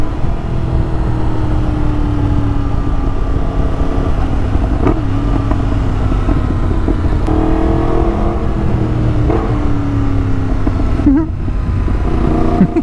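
A Yamaha MT-10 motorcycle engine runs loud and steady throughout, with several rising and falling revs and brief throttle blips, heard close up with no talk.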